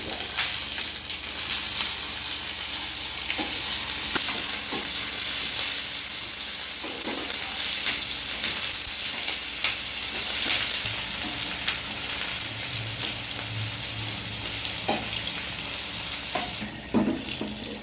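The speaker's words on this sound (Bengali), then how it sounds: "ভালো করে ভেজে দেবো। ঢ্যাঁড়সগুলো দিয়ে দেবো।" Okra sizzling steadily in a pan in a home kitchen for a vegetarian Bengali dish, a continuous close frying hiss with occasional stirring clinks and scrapes, no one talking.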